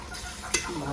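Tomato paste, made from three ground tomatoes, frying and being stirred in a pan: a short close burst of sizzle with one sharp scrape of the spoon partway through.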